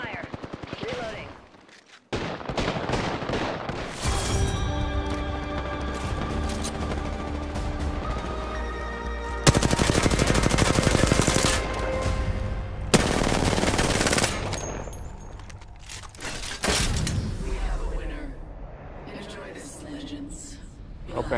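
Automatic weapon fire in Apex Legends rattles in rapid bursts, loud and close, with sustained fusillades and brief pauses, while a player talks excitedly over the shooting.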